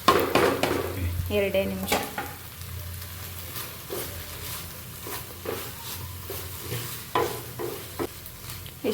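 Tomato gojju being stirred and fried in a pan, with steady sizzling and repeated scrapes and clinks of a spoon against the pan, while a voice speaks briefly.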